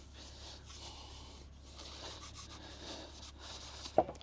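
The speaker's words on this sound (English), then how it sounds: "Now let's just see about scuffing this up a little bit." Abrasive pad scuffing a rusty, awkwardly shaped car part outdoors, a quiet close rubbing scrape in repeated back-and-forth strokes, ending in a sharp little knock.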